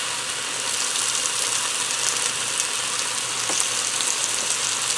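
Salisbury steak sizzles on a Power XL air fryer grill combo after sautéed mushrooms, a continuous close frying hiss with faint crackles throughout.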